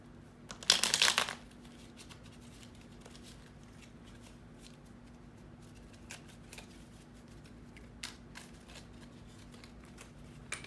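A brief burst of playing cards being riffled and shuffled near the start, followed by faint occasional ticks of card handling in a quiet room.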